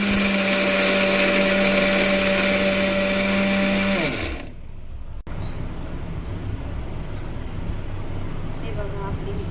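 A kitchen mixer grinder whirs loudly, grinding garlic, cumin, red chilli and peanuts into a chutney, then winds down and stops about halfway. Someone talks over the quieter rest.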